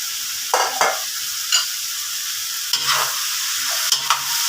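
Bean sprouts and spring onion tossed in a hot pan, a constant sizzle broken by several sharp scraping stirs of the spatula close by, with no voices.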